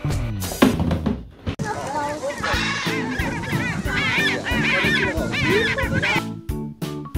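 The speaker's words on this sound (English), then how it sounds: "Penguin." A penguin calls in a loud, braying, honking stream of cries close by, with several overlapping squawks before it fades out.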